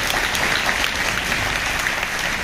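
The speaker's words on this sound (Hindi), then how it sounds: "ये ताली बजाने का विषय नहीं है।" An audience claps steadily throughout, a dense, even wash of applause from a crowd at a public speech.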